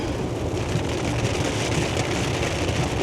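Steady rain falling in Atlanta, Georgia during hurricane season, a continuous broadband hiss of drops without breaks, moderately loud and close, with no voices.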